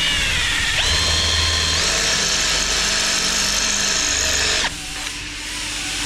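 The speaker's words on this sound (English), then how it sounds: "Try it with a drill." A power drill whines loudly in a workshop while working on a stuck, broken stud on a Cosworth engine, one sustained run with the pitch stepping up partway before it stops.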